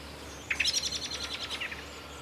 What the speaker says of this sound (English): We've all heard this one, an unhappy blackbird.